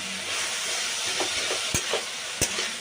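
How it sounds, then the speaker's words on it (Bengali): Chopped fenugreek greens frying in a pan with ginger paste and ground cumin, a steady close sizzle stirred about, with a couple of sharp knocks of the spatula against the pan. "এইবার আমি এটা একসাথে নাড়াচাড়া করে একদম ভেজে নেব ঝরঝরে করে একদম"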